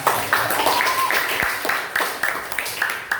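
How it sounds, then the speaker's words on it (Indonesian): A class breaks into clapping during an Indonesian language lesson, with a few short bursts of hand claps mixed in with voices and room noise. "Tepuk tangan."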